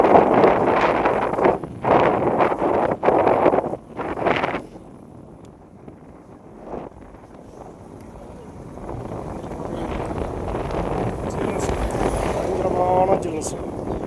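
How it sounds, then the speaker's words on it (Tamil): Strong wind gusts across the Bargur hills near Erode, buffeting the microphone with a steady, rumbling roar that swells toward the end, while someone talks over the first few seconds. "காற்று பயங்கரமாக சுசு அடிச்சுட்டே இருக்குது."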